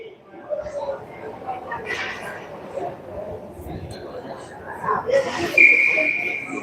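A referee's whistle sounds for icing at a 14U youth ice hockey game, a shrill, fairly close blast near the end of the clip, with people talking and rink noise underneath.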